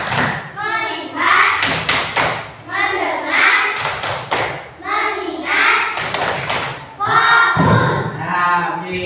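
A group of schoolchildren at an elementary school chant words in unison while clapping in a rhythmic focus routine, with sharp claps falling between the chanted phrases throughout.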